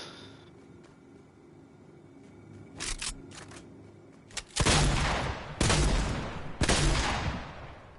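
Gunfire in Fortnite target practice at a training center: a few sharp shots, then several loud, crisp bursts spaced about a second apart, each with a short decay.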